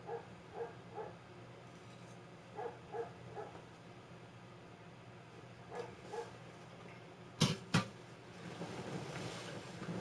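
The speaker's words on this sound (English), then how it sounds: "dogs are still out there at it out there barking." Several dogs bark outside, distant and faint, in scattered bursts of yips and woofs, with two sharper, louder knocks near the end over a quiet background.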